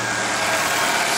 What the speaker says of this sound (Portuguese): Pegou suave, hein? O motor tá no ponto, ó. Motor paradinho